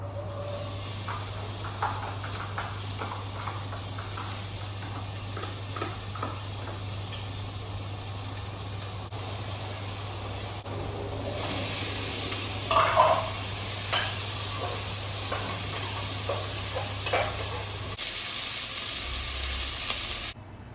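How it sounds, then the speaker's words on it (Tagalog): Chicken sautés in a pan, a steady loud sizzle and hiss running throughout with a constant low hum beneath and occasional faint clatters, no voices. "Gigisa na ako."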